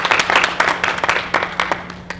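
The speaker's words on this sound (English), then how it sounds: "So let's give Dee a round of applause." Audience applause after a speaker is introduced at a gun safety presentation, loud close clapping from a modest crowd with distinct individual claps and a steady low hum underneath.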